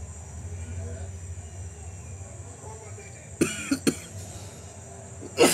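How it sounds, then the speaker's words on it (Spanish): A man coughs a few sharp times, hoarse and close, over a low steady background hum, then gives one more burst at the end. "Estoy bien fregado la tos."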